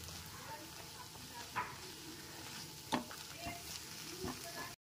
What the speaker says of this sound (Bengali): এরপর খুব ভালো মতো ওটসের সাথে সমস্ত সবজির সাথে খুব ভালো মতো কষিয়ে নিচ্ছি